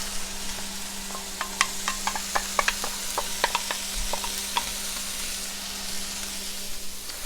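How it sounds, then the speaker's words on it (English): Garlic and onion fry in a cast iron pan as part of fried rice, a steady sizzle with scattered sharp crackles and pops, close and moderately loud, no voices. "we're going to get going on our garlic and onion"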